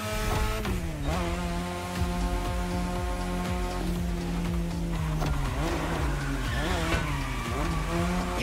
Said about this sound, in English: You're driving my car's older sister tonight, the Mazda RX-7 Turbo 2